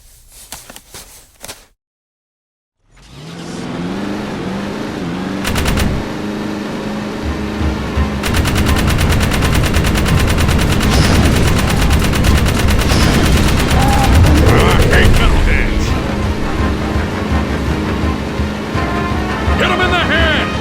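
Vehicle-mounted gun in the Jak 3 video game: after a brief silence, dense continuous rapid gunfire builds and holds over an engine and crashing rumble, loud and sustained, with in-game voices talking over it.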